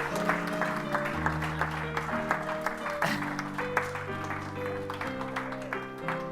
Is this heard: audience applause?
yes